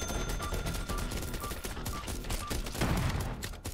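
Rapid automatic gunfire from the zombie shooter game Biters & Bullets, a dense nonstop rattle of shots with steady high pips layered over it, loud and close throughout.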